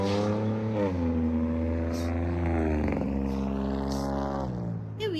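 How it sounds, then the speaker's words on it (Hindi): Loud motor vehicles passing on a roadside during a long walk, a continuous engine drone with rising and falling revs as traffic moves by close, someone talking over it. "ये व्हीकल्स इतनी आवाज क्यों करते हैं, इतनी ज्यादा आवाज।"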